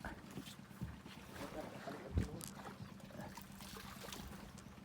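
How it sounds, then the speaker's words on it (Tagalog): A small 19 hp low-speed outrigger boat engine putters steadily near the water, a soft rhythmic chugging with wind buffeting the microphone. "Makina ng Emil, 19 HP na low speed."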